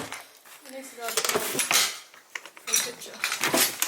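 An old drawer in an abandoned mansion is pulled open, and loose metal objects inside clatter and rattle in uneven bursts. The sound is close and fairly loud.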